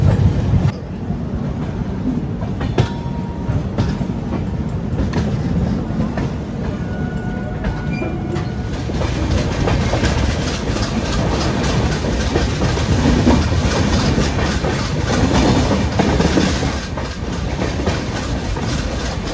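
The Howrah–Barbil Jan Shatabdi Express rumbles and clatters steadily near Santragachi, wheels clacking over the rails, loud and close from inside the carriage.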